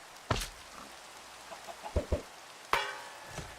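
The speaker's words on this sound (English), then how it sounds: "It's like we're going to get an end chicken now." Chicken clucks from eggs thrown in the Minecraft video game, a few short close clucks spread across the moment with a sharper burst near the end, with no talk.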